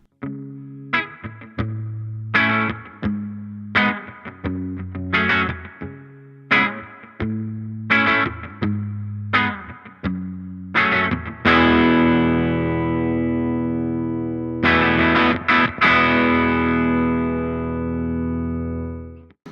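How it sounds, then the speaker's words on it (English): Electric guitar through a Laney Lionheart Foundry Super 60 amp with heavy reverb: a series of plucked notes and chords followed by long, shimmering sustained chords with lingering tails. "Right now we're at 8 on the reverb"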